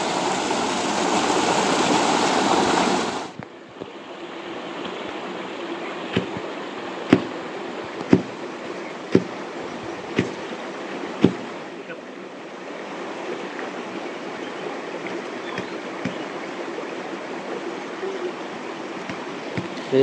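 River water pours steadily past a small mud dam built to hold back the flow, a broad close rush that drops after a few seconds to a quieter trickle, with scattered sharp knocks over it.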